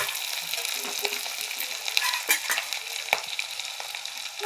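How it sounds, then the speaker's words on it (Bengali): Fish swim bladders frying with chillies in hot oil, a steady bright sizzle broken by occasional sharp pops and stirring scrapes, close and continuous. "এই যে ভাজা হচ্ছে, দেখুন কেমন করে ভাজছি।"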